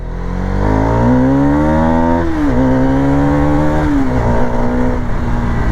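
A Hero Karizma XMR210 sports-tourer motorcycle accelerates hard and close, its engine note climbing through the gears with brief dips at each shift, loud and steady with no talking.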